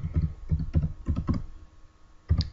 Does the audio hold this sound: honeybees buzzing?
no